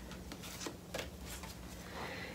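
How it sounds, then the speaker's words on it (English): Tarot cards being shuffled by hand, a few quick soft riffling and sliding bursts, close and quiet, with a low steady hum underneath. "let me just give these a few shuffles here."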